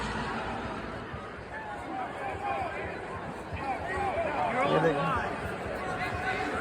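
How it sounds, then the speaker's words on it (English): Crowd at a Blizzard football game, a constant murmur of chatter and distant cheering that swells slightly near the end, with some voices rising above the babble. "Look at the crowd here, guys."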